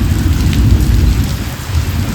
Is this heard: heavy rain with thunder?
yes